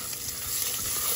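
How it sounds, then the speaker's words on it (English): Onion, salt, pepper, oregano, fennel seed and basil for pizza sauce sauté in olive oil, giving a close, steady sizzle with soft stirring scrapes over the short moment. "And I saute it with olive oil"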